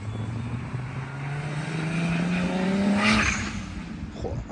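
A turbocharged BMW E36 accelerates with an engine note that rises steadily, then gives a sharp hissing turbo dump valve discharge as the throttle lifts, heard loud and close.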